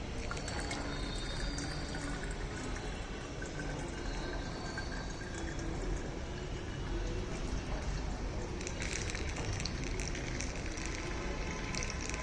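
Petrol pours steadily into a fuel measuring device, making a continuous close liquid rush and trickle with no pauses and no talking.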